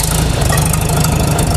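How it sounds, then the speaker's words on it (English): A Farmall tractor engine runs steadily and loudly close by, a continuous rough, knocking idle with no pauses and no talk. "We're going to start the tractor and see what it changes to."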